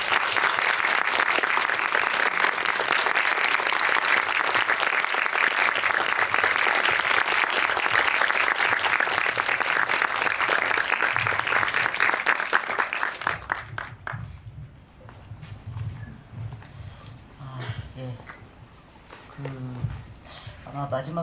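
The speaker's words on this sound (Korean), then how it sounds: "큰 박수로 맞이해 주십시오" An audience at the Busan International Film Festival claps loudly and continuously for about thirteen seconds, and then the applause fades as a person begins speaking.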